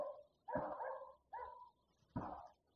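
A dog barks in the distance at night in a village garden, three separate woofs spaced about a second apart, each carrying some echo, with no talk over them.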